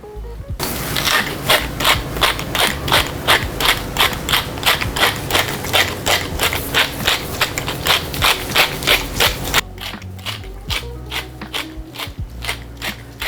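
A pepper mill grinding over a prime rib roast: a fast, even run of loud ratcheting clicks close by, turning steadily for about nine seconds before slowing to fainter, scattered grinds.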